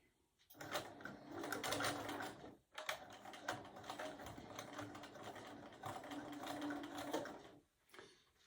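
A sewing machine stitches a 3/8 inch seam on a scrap mug rug in two steady runs split by a brief pause, its rapid mechanical rattle fairly close and unaccompanied by talk.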